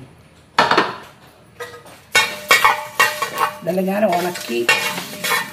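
Spatula scraping and stirring homegrown black pepper and cumin dry-roasting in a heavy uruli, with clinks and rustling scrapes in uneven bursts while someone talks over it.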